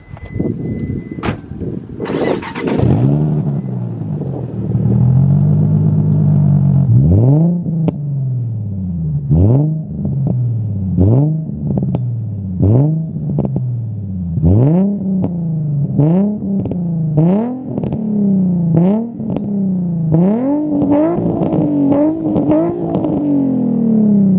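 A Nissan 350Z with a Megan Racing exhaust, already warm, starts and then revs repeatedly: a steady idle rumble is broken by a long series of sharp, close throttle blips that rise and fall in quick succession.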